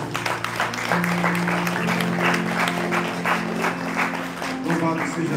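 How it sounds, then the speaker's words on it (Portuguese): A church congregation at a Portuguese-language service claps continuously for about five seconds, a dense, steady wash of applause with soft music or voices underneath. "Dê uma salva de palmas ao Senhor."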